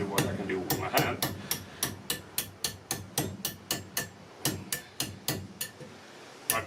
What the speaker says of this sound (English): So I guess I need to use the hammer because it's quite small radius compared to what I can do with my hand.